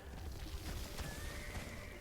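A horse neighs in Black Desert Online on PS4 Pro, a fairly loud whinny over a steady game backdrop with faint hoof clip-clop.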